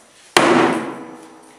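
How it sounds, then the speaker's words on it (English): A single sharp strike of a 4-pound hammer on a barrel's metal hoop during traditional cask making in Ireland, loud and close, ringing out and fading over about a second. "But a 4-pound hammer."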